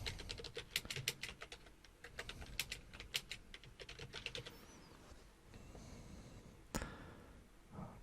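Rapid clicking keystrokes from a computer keyboard, fairly faint and close, come in bursts of typing with short pauses and a lone sharper tap near the end.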